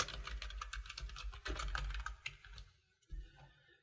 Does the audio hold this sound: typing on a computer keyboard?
yes